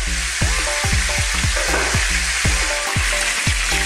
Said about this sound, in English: So let's cook this fish for about 5 minutes on each side